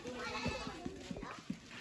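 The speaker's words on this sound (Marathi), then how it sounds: "इकडे कोंबड्याने बकऱ्या आहेत" A few short goat bleats sound out over a noisy farmyard background, spaced irregularly across the moment.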